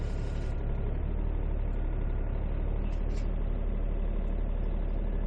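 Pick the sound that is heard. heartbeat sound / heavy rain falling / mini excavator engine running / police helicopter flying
mini excavator engine running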